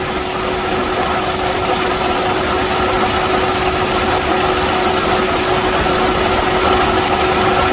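Car engine idling with the AC compressor clutch failing to stay engaged, a loud steady mechanical drone and whine heard up close without a clear change in pitch.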